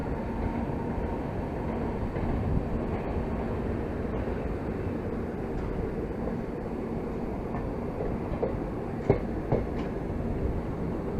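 Sirsa Express running in parallel with the Shivganga Express toward New Delhi: a continuous rumble of rolling train wagons with steady clickety-clack and occasional sharp clanks and squeals, heard from on board.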